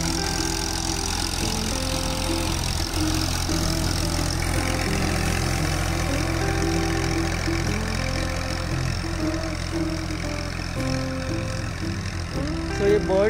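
A tractor works a potato field in Gujarat, digging potatoes out of the soil, its engine chugging steadily and fairly close for the whole stretch without letup.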